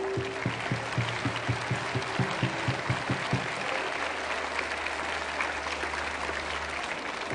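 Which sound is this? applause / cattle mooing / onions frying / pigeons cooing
applause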